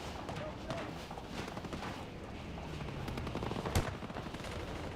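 Gunfire in a shooter video game, with sniper shots mixed in among dense, continuous bursts and one sharper crack near the end, all sitting under a busy game soundscape.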